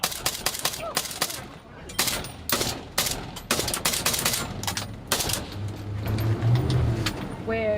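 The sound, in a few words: gunfire during a police patrol under attack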